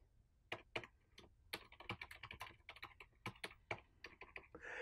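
Someone types an email on a computer keyboard, with crisp, close key clicks in irregular quick runs and short pauses, quiet overall with no talking.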